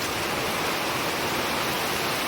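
A heavy thunderstorm brings a dense, steady roar of pouring rain, loud and unbroken throughout, with no other sounds standing out.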